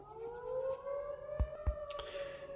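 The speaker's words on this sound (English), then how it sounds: "there is some sort of siren going off in the background" A civil defense siren wails in the distance with a steady, slowly rising tone, joined by a couple of nearby thumps.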